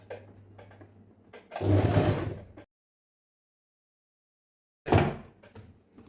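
A sewing machine stitching blouse lining, running in two short close bursts of whirring stitches separated by a few seconds of silence, with faint handling noise at the start.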